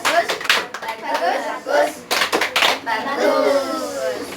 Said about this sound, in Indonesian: Beri tepuk bagus untuk Caca dan Cinta.